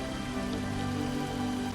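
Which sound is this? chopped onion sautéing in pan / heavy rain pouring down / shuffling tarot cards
heavy rain pouring down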